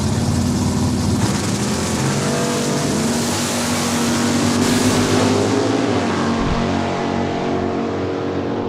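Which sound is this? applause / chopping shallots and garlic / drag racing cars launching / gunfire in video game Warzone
drag racing cars launching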